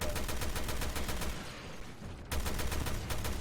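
Rapid bursts of gunfire from shooting at an enemy in the video game Resident Evil Revelations 2, loud and dense, with a brief break before the shooting resumes.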